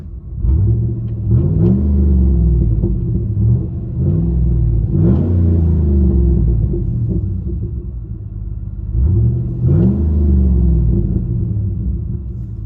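Deep, throaty V8 rumble of a 2008 GMC Yukon 6.2-liter with a Flowmaster Outlaw exhaust, muffler and resonator deleted, heard from inside the cabin, loud and steady with a few revs swelling and falling.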